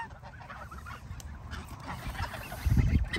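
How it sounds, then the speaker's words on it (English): A flock of ducks honks and chatters nearby at a lake, a busy, layered stream of calls over outdoor background noise. "So many duck."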